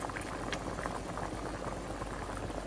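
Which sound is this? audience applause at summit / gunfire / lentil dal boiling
lentil dal boiling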